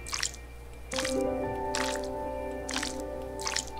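Video game noodle sound effect made of wet, squishy slurps and drips in several short bursts over a soft sustained music bed, with no one talking.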